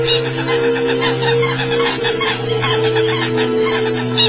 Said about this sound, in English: The appearance of an anaconda in the open is cause for a lot of squawking and screeching from the bird